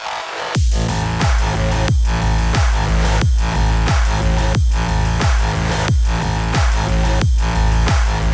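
Driving, loud action music from Cyberpunk 2077 with heavy pounding bass hits in a steady rhythm, dense distorted layers on top, playing continuously without any voices.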